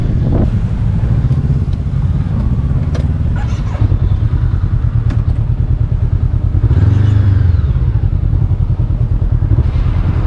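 A motorcycle ridden during A2 licence practice, its engine droning steadily and close with a swell of revving around the middle, plus some clatter, no talking.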